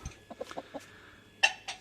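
Malatya chickens clucking close by, a quick run of short clucks followed by a louder squawk and one more cluck near the end.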